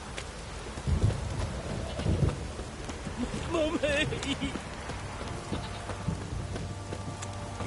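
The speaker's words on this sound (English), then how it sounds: "This downpour's a bastard" Heavy rain pours down steadily in The Witcher 3, a dense wash of falling water throughout, with a child's cry and low voices heard over it.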